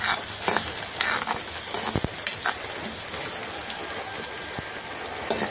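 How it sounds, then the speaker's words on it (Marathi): Chopped onion and garlic frying in a pan, with a steady loud sizzle, scattered clinks and scrapes of a spoon stirring up close, and no voices. "कांदा आणि लसूण थोडासा हलवला हो"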